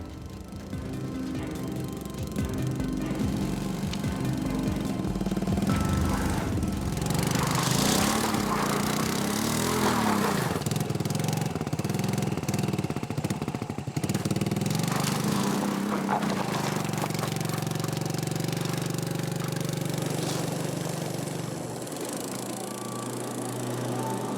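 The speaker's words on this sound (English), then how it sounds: "His old moped is struggling." A small two-stroke engine of an old moped drones steadily on a jungle road in Borneo, its pitch rising and falling as it labors and revs unevenly, loud and close for the whole stretch.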